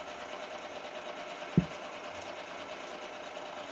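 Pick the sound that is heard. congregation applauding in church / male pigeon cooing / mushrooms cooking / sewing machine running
sewing machine running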